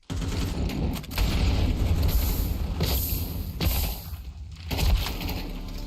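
Grenade blasts in CS2, thrown into a dense firefight: rough, booming bursts mixed with rapid gunfire, loud and close, several heavy hits spread across a busy stretch with no voices.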